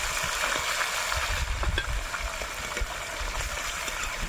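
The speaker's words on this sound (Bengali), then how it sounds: "পুঁটি মাছটা ভাজতেও তেল ছিটকাচ্ছে" Small puti fish frying in spattering mustard oil in a kadai crackle and hiss continuously, close by and fairly loud, with scattered sharp pops over the steady sizzle.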